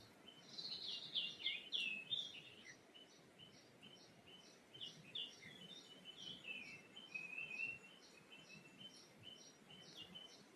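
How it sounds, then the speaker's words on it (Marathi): Birds chirp and trill in a quiet forest, bright calls repeating in quick phrases against a faint background hum of insects, no voices. "पक्ष्यांचा असेल, हवेचा असेल, पाय पाचोळ्याचा असेल, तो फील करा."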